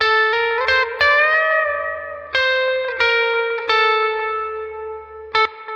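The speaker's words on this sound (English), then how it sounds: "Once you throw on that delay." Electric guitar notes and chords ring out with a repeating delay, each attack echoing and trailing into the next, bright and sustained with no talking.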